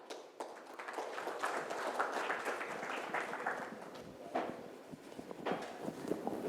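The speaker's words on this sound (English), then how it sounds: "please give a big round of applause for Mr. Ashwin Agrawal." Audience applause at the CISO Confex 2023 cybersecurity conference as a speaker is welcomed, a dense wash of many hands clapping at moderate level throughout, with a few sharper claps and taps standing out.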